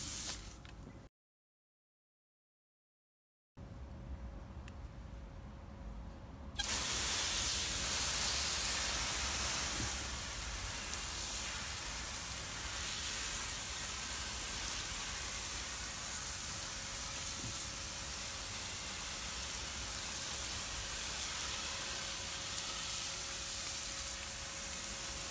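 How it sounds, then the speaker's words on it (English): A garden hose sprays water to rinse wood cleaner off a hardwood timber privacy screen outdoors, a steady hissing spray that starts after a short gap and runs on evenly at moderate loudness. "Rinse all the wood cleaner off."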